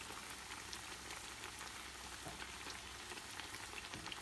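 Quesadillas fry in a pan with oil added on top, giving a steady, close, dense sizzle and crackle that holds evenly throughout, with no voices.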